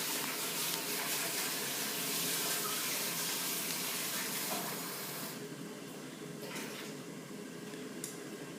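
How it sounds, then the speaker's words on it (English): Cold tap water pours steadily into a drinking glass, a close, continuous splashing hiss that eases slightly in the last few seconds as the glass fills. "I want you to fill your glass about 3/4 with cold water"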